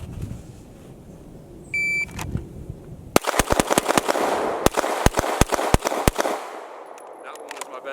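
Pistol shots at an outdoor shooting range: a rapid string of about ten sharp, loud cracks spread over roughly three seconds, preceded by a faint electronic beep and some quiet background noise.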